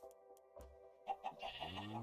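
Minecraft sheep bleating in a short burst of wavering, nasal cries partway through, close and clear over a quiet game background with no talking.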